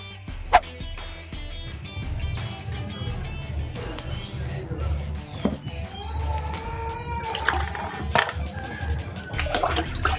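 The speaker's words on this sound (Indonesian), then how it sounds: "Ya sudah, kita cuci dengan air bersih." Computer motherboard washed under clean running water, a close splashing and trickling with irregular clinks and handling knocks, a voice speaking intermittently over it.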